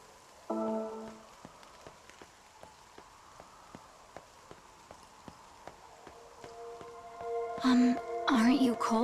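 Steady light rain patters throughout in the video game NieR Reincarnation, with faint ticking drops, while a voice speaks quietly near the end.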